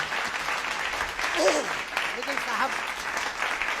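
Audience clapping at a live Hindi comedy poetry show, a dense steady wash of applause with voices and someone speaking over it.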